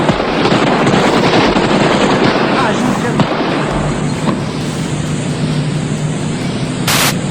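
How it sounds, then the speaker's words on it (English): Dense, crackling bursts of gunfire rattle continuously through heavy noise, loud and chaotic, with sharp cracks standing out from the din, during Romania's Christmas Day Revolution execution of Nicolae Ceaușescu. "Seconds later, gunfire tore through the air."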